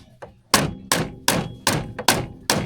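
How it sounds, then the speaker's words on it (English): Six heavy, sharp soft-hammer blows strike at an even pace on a metal part of a Polaris RXL snowmobile, each a ringing thunk, close and loud. "Hey, Lon, you want to hand me a soft hammer of some sort?"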